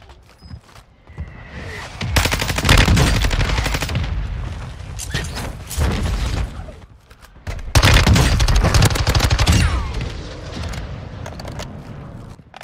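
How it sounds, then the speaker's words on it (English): Mortar strike explosions in Call of Duty Warzone on Ashika Island, two long loud bursts of booming blasts and rapid gunfire-like cracks, each rolling for a few seconds with a brief lull between them. "Mortar strike inbound now."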